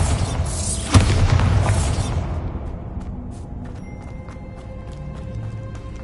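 A Bombarda blasting spell goes off in the video game Hogwarts Legacy: a sudden loud boom followed by a rumbling roar of debris that decays over a few seconds into quieter clatter and a tonal hum.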